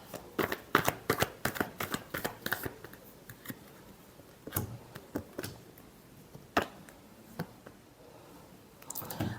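Tarot cards are shuffled by hand in a rapid series of crisp riffling flicks and snaps, close and clear, with a few pauses between bursts.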